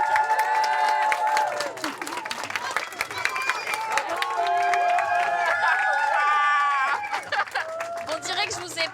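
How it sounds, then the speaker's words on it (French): Applause from the audience at a stand-up comedy show in Paris, a crowd clapping and cheering beneath music with a sustained melodic line, lively and continuous, with some voices mixed in. "je vous applaudis"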